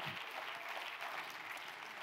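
A church congregation clapping their hands during Bishop Joe Forbush's sermon, a faint, steady wash of many hands applauding together without pause.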